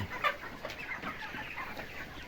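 Chickens clucking in a poultry barn during a harvest in Wonogiri, a steady murmur of many birds with occasional sharper calls, moderately loud and continuous.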